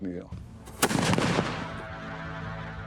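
A single heavy blast from a medieval arquebus firing a lead ball, followed by a long rumbling decay that fades over a couple of seconds.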